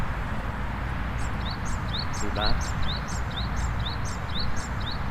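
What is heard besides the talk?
birds in Zabeel Park, Dubai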